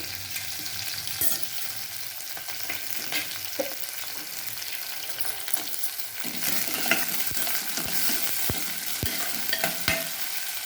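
Onion frying in a tempering of cumin, mustard seeds and curry leaves, a soft steady sizzle with occasional stirring scrapes and a few sharp ladle taps on the pan toward the end.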